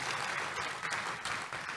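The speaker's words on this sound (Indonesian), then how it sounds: "Tepuk tangan dulu yang meriah buat Tuhan Yesus." A church congregation breaks into brief, lively applause during a Sunday service, the clapping dense and continuous with no speech over it.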